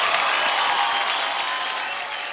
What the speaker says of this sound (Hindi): एक बार तालियां होनी चाहिए